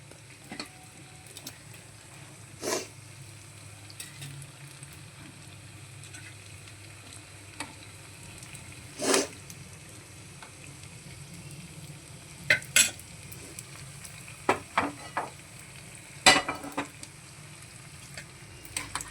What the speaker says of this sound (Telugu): ఒక్కొక్కటి కొంచెం గోల్డ్ కలర్ వచ్చేంత వరకు వేయించుకోవాలండి మనము ఇడ్లీని.